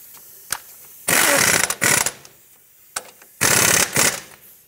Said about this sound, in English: Then we'll torque it to 59 foot-pounds.